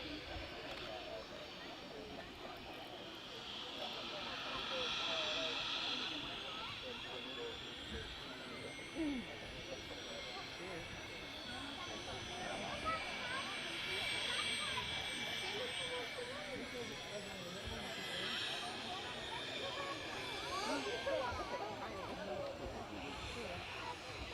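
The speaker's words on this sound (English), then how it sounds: "reverse thrust there, just to slow the aircraft down" Airliner landing at Manchester Airport with reverse thrust, a broad sustained jet roar heard from the runway-side visitor park, steady and moderately loud throughout, with people talking over it.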